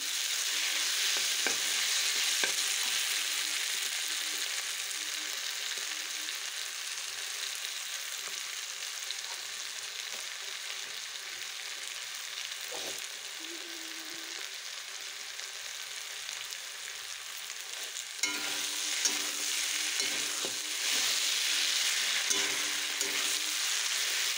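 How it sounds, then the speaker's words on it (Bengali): Small fish frying in a pan give a steady, dense sizzle with occasional crackles and light stirring, continuous and fairly close, with no one talking. "তো চলো ছোটো মাছটা বসিয়ে দিই"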